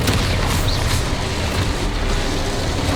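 A Confringo blasting spell explodes in the Hogwarts Legacy game, sending out loud, booming bursts that land near the start and about a second in, over dense, rumbling combat noise and without speech.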